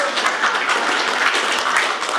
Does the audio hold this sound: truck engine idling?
no